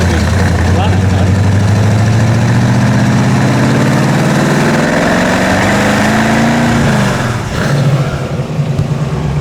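Supercharged Y-block V8 in a 1932 Ford roadster running with a carburetor bogging problem, a loud, steady rumble that rises and sags in pitch before settling back to a rough idle.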